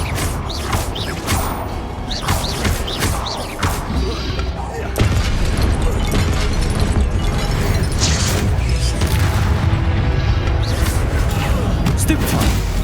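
Spell combat in Hogwarts Legacy with the Confringo blast, a dense, loud run of booms, thuds and crashes. It builds into a sustained roar of impacts as a voice shouts spell names over the din.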